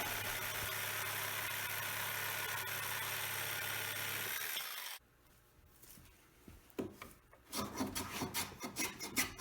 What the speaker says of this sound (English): we're just going to use the saber saw and make that cut